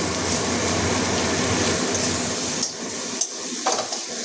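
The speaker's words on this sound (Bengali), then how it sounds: "সব মশলাগুলো ভালো করে ভেজে নেব।" Ground spices, coriander and turmeric among them, fry in a pan for a lentil dish with okra, giving a close, steady hiss that cuts off partway through, followed by a few light clinks of a spoon against the pan.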